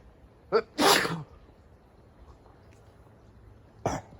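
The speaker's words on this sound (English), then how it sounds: "that was a big sneeze" Two loud, close sneezes in quick succession near the start, then a quiet pause before a third sharp sneeze at the end.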